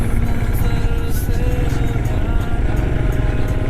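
A Royal Enfield motorcycle rides along a winding, broken uphill and downhill mountain road in Sikkim, its engine giving a loud, continuous low rumble mixed with road and wind noise.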